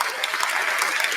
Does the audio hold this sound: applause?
yes